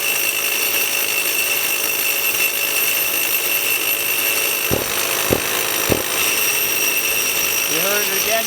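Twin Hilti TE60 rotary hammer drills boring with 28-inch hollow bits, a loud continuous rattling hammer drone with a few sharp knocks near the end.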